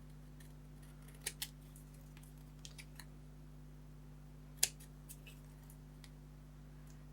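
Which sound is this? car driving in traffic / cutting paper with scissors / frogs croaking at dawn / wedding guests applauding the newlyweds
cutting paper with scissors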